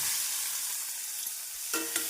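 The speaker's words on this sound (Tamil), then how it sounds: "நறுக்கிய வெங்காயத்தை சேர்த்து விடலாம்." Steady hissing sizzle of chopped onions frying in a hot pan, with a couple of brief scrapes of stirring near the end.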